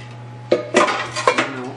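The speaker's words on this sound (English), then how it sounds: "I'm using a spatula to kind of scrape the bowl because there is some still like sugary juice in here" A spatula scrapes strawberries and sugary juice from a bowl, giving a few distinct close scraping and clinking strokes against the bowl over a steady low hum.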